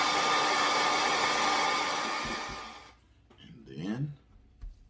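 A hair dryer blows loud and steady, warming the adhesive of a GoPro chin mount on a carbon fiber Scorpion R1 AirClip 2 helmet, then cuts off, followed by brief rustling and a short voice.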